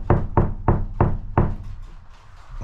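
Knuckles rap a camper van wall panel five times in a steady rhythm, each knock close, loud and hollow-sounding, then quiet room noise.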